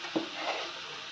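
Spices such as red chili powder and cumin powder fry in a pan as a steady, soft sizzle throughout, with a brief stirring scrape near the start.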